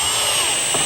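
A power drill bit grabs and pulls itself through a hole in a basement workshop, giving a brief, loud, steady motor whine with a high tone that cuts off abruptly.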